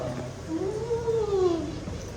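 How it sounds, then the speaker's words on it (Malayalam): A single drawn-out meow rises and falls over about a second, fairly close, against a faint room background. "അത് ബ്രിട്ടീഷ് കാറ്റാണോ?"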